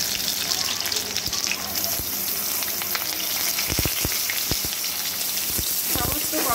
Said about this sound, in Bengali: তেলটা খুব ভালো করে গরম করে নেওয়ার পরেই এর মধ্যে দিয়ে দিচ্ছি পুর ভরা পটলগুলো।